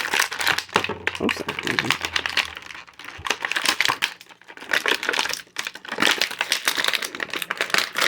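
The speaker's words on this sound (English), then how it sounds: "Get out of the packaging here." A Masters of the Universe Origins Turtles of Grayskull Raphael action figure pulled from crinkly plastic packaging, with steady close rustling and crackling throughout and someone speaking briefly over it.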